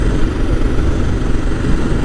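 A stock Suzuki DR650 carrying a passenger off-road after a downshift, its single-cylinder engine a loud, close, steady rumbling drone throughout with no talking.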